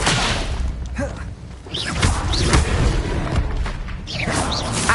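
A fire spell cast in the video game Hogwarts Legacy bursts out in loud, booming thuds among rapid combat effects, with several whooshing impacts over a continuous din of battle.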